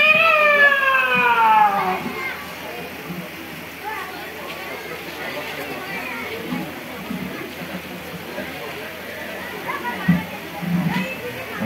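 A voice imitates cats fighting, with a rising, wavering yowl followed by growls, spits and meow-like cries, close and loud, as an audience murmurs in the background at a Bihu celebration stage show.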